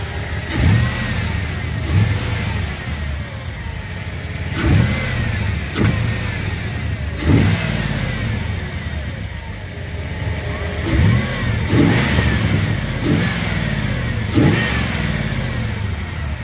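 LT1 F-body car engine with its intake snorkel removed, revving in repeated sharp throttle blips over a steady rumbling idle, loud and close, with no talk.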